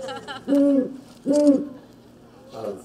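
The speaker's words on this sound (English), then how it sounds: "That would be the barred owl that you have often in your yards." Barred owl calling, with two strong, evenly spaced low hoots followed by a fainter third call, loud and close, with brief faint voice-like sounds around them.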